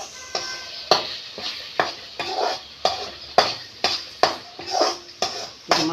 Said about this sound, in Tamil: இப்போ இதை நல்லா கிளறி விட்டுருந்தாங்க